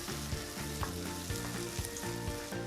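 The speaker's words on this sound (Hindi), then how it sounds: "गार्लिक को थोड़ा सॉटे करने के बाद इसमें मैं डाल रही हूँ व्हाइट अनियंस" Chopped garlic and white onions sauté in butter in a pan, giving a soft continuous sizzle with light rhythmic stirring scrapes, fairly quiet and close, with no talking.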